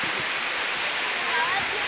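Cola de Caballo waterfall in Santiago, Nuevo León pours down as a loud, steady, close roar of falling water with no pauses.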